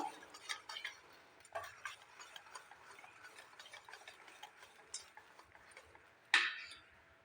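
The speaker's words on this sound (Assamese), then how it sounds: "মই আৰু অলপ ভালদৰে লৰাই ল'ম।" Mango semolina cake batter is stirred in a bowl, making soft, rapid ticking scrapes in a steady rhythm, faint and close, ending in one sharper knock of the utensil against the rim.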